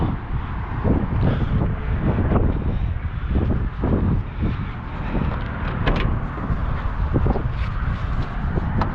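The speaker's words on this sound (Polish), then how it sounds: "Mocno wieje." Strong wind blows hard and steadily across the microphone outdoors, a continuous loud rumbling roar with gusty surges throughout.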